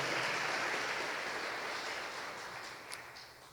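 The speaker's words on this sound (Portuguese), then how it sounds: "Vamos aplaudir Jesus bem forte" A church congregation applauds, a broad wash of clapping that gradually fades in strength over a few seconds.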